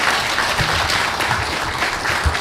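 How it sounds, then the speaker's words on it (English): Steady, dense applause from an audience in a courtroom ceremony, many hands clapping evenly and continuously with no voices above it. "Could I just have one more round of applause for all the Chief Justices and their contributions?"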